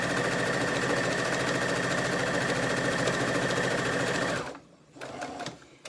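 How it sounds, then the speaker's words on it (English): Sewing machine stitching a straight line on fabric for a mask, a steady rapid mechanical whir running for about four seconds, then stopping abruptly, followed by a few faint handling noises. "just sewing a straight line"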